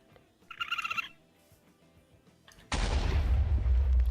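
A grenade blasts in a Minecraft gun mod (TaC, version 1.18.2): after a short burst of high beeping and a quiet pause, a sudden loud explosion hits and its heavy rumble keeps rolling to the end.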